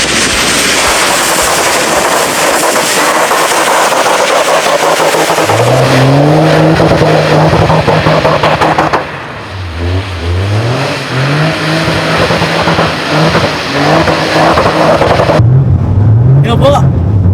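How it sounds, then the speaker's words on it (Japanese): A hydrogen-engine Toyota GR Yaris drifts nearby, its engine loud and revving, rising and falling in pitch through repeated accelerations, with tyre noise and people's voices over it. "水素エンジンの GR ヤリスでドリフト体験です。"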